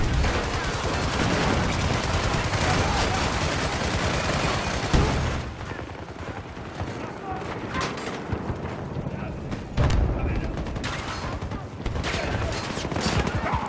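MP9 submachine gun fire in the shooter game Battlefield 2042: a dense, loud stream of rapid shots for about five seconds, then shorter intermittent bursts and scattered battle noise, with voices talking in places.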